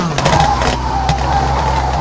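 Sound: rally car handbrake turn, video game WRC 3

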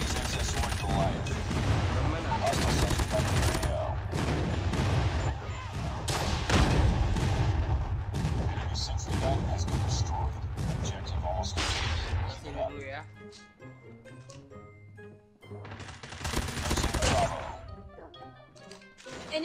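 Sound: airstrike explosions in Call of Duty Mobile video game

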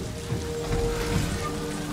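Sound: rain in the video game Ghost of Tsushima

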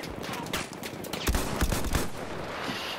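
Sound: machine gun fire in a video game

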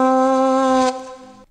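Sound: AI tone-transfer saxophone version of a guitar riff

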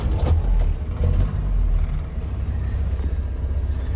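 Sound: 1972 Land Rover Series III engine starting

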